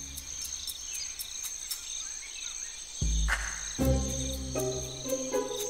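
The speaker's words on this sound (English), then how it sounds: "A cricket." A cricket chirps in short, regular pulses, fairly close and clear, while sharp rustling noises and scraping bursts interrupt it partway through.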